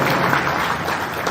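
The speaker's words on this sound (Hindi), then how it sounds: "एक बार इनके लिए जोरदार ताली बजाइए" Dense, steady applause from an audience at a district traders' association gathering fills the whole stretch at a loud, even level, with no talk over it.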